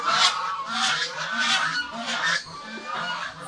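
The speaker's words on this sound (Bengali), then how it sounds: "এই হচ্ছে আমাদের চীনা হাঁস দুইটা।" Two Chinese geese honk repeatedly in a morning farmyard, their nasal calls overlapping in an uneven rhythm, fairly close and clear with no talk over them.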